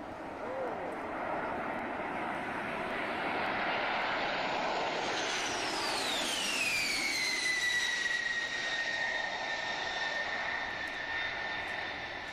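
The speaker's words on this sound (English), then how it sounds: "This jet's passing by really low." A low-passing jet aircraft roars steadily for about twelve seconds, its whine sweeping downward in pitch as it goes by, loud and close, with a voice talking over it.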